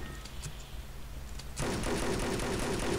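Dense, continuous rapid gunfire from Wolfenstein: Enemy Territory, heard through a player's speakers, bursts in partway through after a quieter stretch, loud and sustained to the end.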